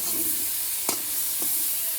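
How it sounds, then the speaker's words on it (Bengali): Leafy greens (shak) frying in a pan give a steady, moderate sizzling hiss, broken by two brief stirring clatters near the middle. "চলো শাকটা ভেজে নিই"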